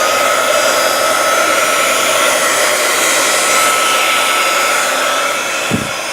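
A heat tool blows steadily and loudly at close range as it melts white shimmer embossing powder on a handmade card, a constant unbroken whoosh with only a soft thump near the end.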